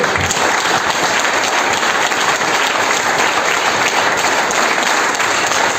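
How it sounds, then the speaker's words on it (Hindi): A seminar audience at a business leadership event claps loudly and steadily, a thick, unbroken wall of applause from start to finish with no voices standing out. "आप एक बार जोरदार तालियां बजाइए अपने लिए"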